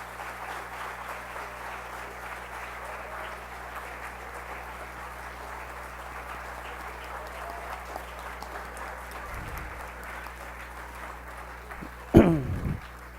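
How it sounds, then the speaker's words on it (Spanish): Sustained applause from a lecture audience, steady broadband clapping over a low hum that continues evenly for the whole stretch, then a brief louder burst of nearby handling noise near the end. "creo que le brindamos un caluroso y respetuoso aplauso"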